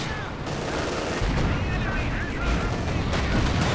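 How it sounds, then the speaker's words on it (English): A walking Stuka rocket barrage slams down in Company of Heroes 2, a dense, sustained roar of overlapping explosions and gunfire, loud and continuous with a commentator's voice mixed underneath. "big walking Stuka hit though"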